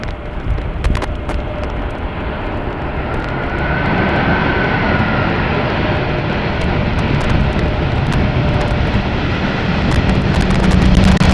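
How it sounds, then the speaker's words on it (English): An Air Arabia Airbus comes in to land on a rainy, windy day at Amsterdam Schiphol, a loud steady engine roar that builds over the clip with wind and rain noise underneath and sharp clicks throughout. "Air Arabia Airbus taking the first exit right in front of us over here."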